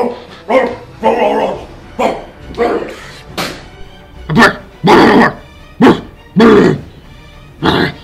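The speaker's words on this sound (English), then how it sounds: "Bark at him." A dog barks in a steady series of about a dozen short, sharp woofs, close and fairly loud, with brief pauses between each bark.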